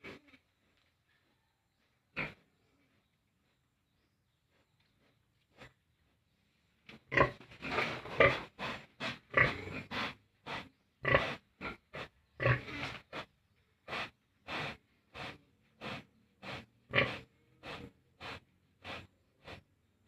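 A pregnant pig grunts and snorts in a rapid series of short, close bursts after a few isolated sounds in near silence, the grunts coming in a steady rhythm for over ten seconds.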